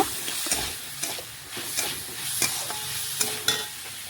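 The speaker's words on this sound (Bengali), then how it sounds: "একটু আলুগুলো ভেজে নিচ্ছি।" Potatoes frying in oil in a pan, with a steady sizzle and repeated scraping stirs from a spatula every second or so, close and clear with no talking.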